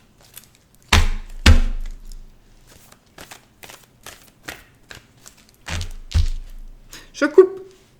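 A tarot deck is cut and tapped on a table, giving a few solid close thuds spread over several seconds with soft card clicks and rustles between them, no talking.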